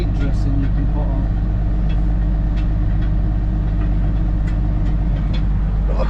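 A New Holland 8040 tractor drones loudly and steadily while pulling a subsoiler through a wet field, a constant close engine roar with someone talking over it.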